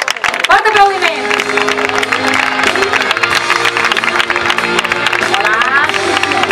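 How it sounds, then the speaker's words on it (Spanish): A crowd applauds and cheers for a contestant at the final of a summer-festival talent show in Palma. Steady clapping runs under music, and a voice speaks over it. "Fort aplaudiment."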